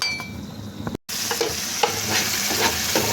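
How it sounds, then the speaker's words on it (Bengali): Onion, garlic and green chili fry in oil with a little turmeric for a greens-and-hilsa dish, giving a steady close sizzle with light stirring scrapes, broken by a brief gap of near silence. "কাঁচামরিচ পেঁয়াজ একটু হলুদের গুঁড়ো দিয়ে ভালো করে ভাজতেছি পেঁয়াজটা"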